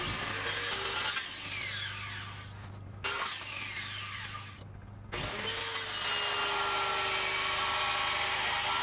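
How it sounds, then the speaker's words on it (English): Circular skill saw cutting a notch into wood, three close whining cuts with the motor revving under load, brief dips between them, the last pass running long and steady. "Cut most of it with the skill saw."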